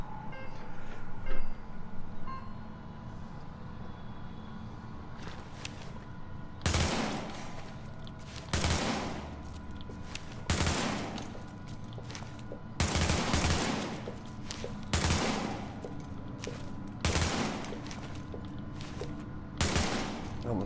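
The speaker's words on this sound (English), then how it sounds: "I'm just gonna show you how stable this gun actually is." An AUG submachine gun fires in the video game The Division, with repeated short automatic bursts of gunfire spaced a second or two apart over steady game background noise.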